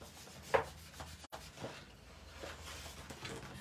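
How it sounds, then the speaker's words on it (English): Fingertips rub acrylic paint across an art journal board in soft, close, irregular scuffing strokes, faint and intermittent with a brief pause. "Take that paint. Rub that onto the rest of my board."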